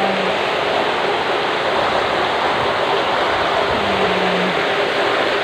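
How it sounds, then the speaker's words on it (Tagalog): Heavy storm with flood water and strong wind, a loud continuous rushing roar filling the whole stretch, close and unbroken. "Baha, hangin."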